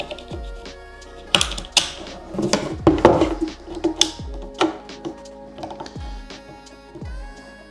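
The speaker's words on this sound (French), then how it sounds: "l'action de la culasse vers l'avant va ramener la balle dans le canon" Sharp metallic clacks and ratcheting clicks from a bolt-action rifle's bolt chambering a round, several distinct strikes spread over a few seconds, close and fairly loud with no voices.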